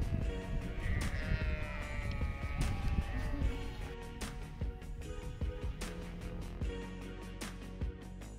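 A herd of sheep bleats repeatedly along a mountain trail in Colorado, with overlapping calls near and far, steady and fairly loud, and a few footsteps and rustles mixed in.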